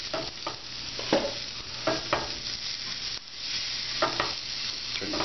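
Butter sizzles in a pan over lowered heat for sautéing chipped beef, a soft steady crackle broken by a few scraping spatula strokes, close and fairly quiet.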